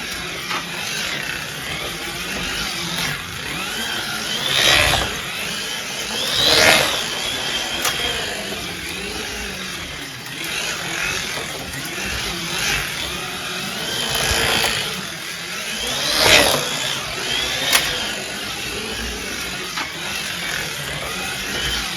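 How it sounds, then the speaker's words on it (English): An SCX Aston Martin Aramco F1 slot car with a decoder runs on the track, a steady mechanical whine and buzz with an odd differential noise, swelling in several louder passes as it goes by, and no talking. "it makes an odd noise on the differential I'm not happy with."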